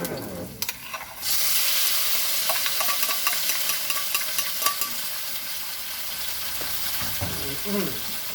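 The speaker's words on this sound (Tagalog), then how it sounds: "So, after nyan, gigisa na natin ang ating kamatis." Tomatoes sauté in a pan for ginisang upo, a steady loud sizzle that follows a few sharp clatters. Stirring scrapes and taps continue throughout, with no talking.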